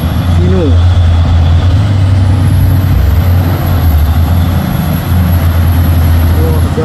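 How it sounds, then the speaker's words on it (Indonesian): A trailer truck pulls out to overtake a Hino Thermal King box truck on a hilly road, its loud engine droning steadily with low rumble throughout, close and continuous. "Trailer Hau langsung mengambil jalur kanan bosku dan menyalip si box Thermal King Hino."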